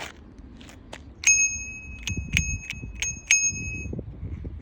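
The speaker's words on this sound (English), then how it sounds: "it came with this darling little bell" A small old-fashioned bicycle bell on an e-bike rings several times in quick, bright dings, close by, with soft handling noise between the rings.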